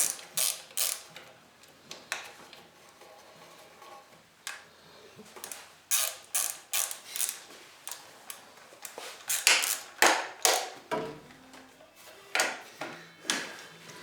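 Ratchet wrench tightening spark plugs on a 2004 Chevrolet Cavalier LS, bursts of rapid close clicking repeated many times with short pauses between strokes, loud and with no talk.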